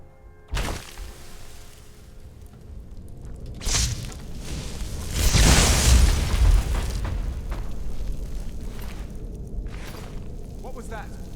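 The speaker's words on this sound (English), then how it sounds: "It was an explosion." A deep booming blast in Skyrim Special Edition rolls out in the middle, a few thumps and clatters before it, and the rumble lingers over a steady low ambience.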